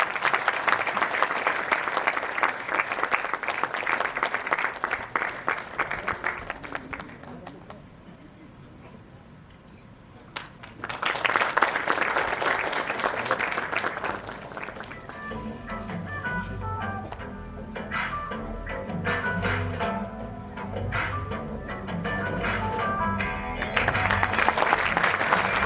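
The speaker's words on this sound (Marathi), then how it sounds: "जोरदार टाळ्या झाल्या पाहिजेत." Loud, dense applause from an audience at a Marathi indie music awards ceremony, swelling in two long bursts before music takes over, with clapping returning near the end.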